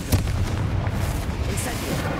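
A Confringo blasting spell bursts in Hogwarts Legacy with a loud, booming explosion that rumbles on through the whole moment, alone without talk.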